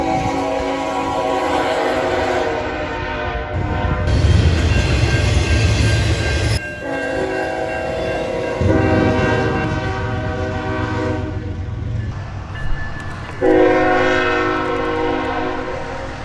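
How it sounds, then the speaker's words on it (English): Trains pass near an RV campground, loud and close, with long sustained horn blasts over a rumbling, clattering roll of rail cars. "When you do that, you're going to hear some trains."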